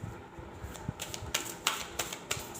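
Tarot cards are shuffled and drawn by hand, producing faint, soft papery flicks and taps in an irregular rhythm over a quiet room.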